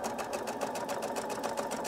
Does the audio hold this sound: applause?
no